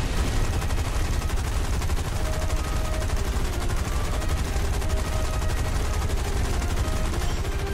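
Rapid machine-gun fire in the video game War Thunder rattles continuously in long automatic bursts, loud and dense, with a faint electronic tone in the background.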